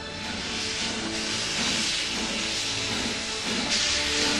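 Steam locomotive at a heritage railroad yard, releasing a steady, loud broadband hiss of escaping steam that runs continuously with slight surges, close by and without speech.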